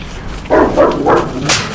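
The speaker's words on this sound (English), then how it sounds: "Oh, the big dog." A big dog barks three or four times in quick succession, fairly close and loud, on a streamside trail near Lower Tanner's Brook in Southampton.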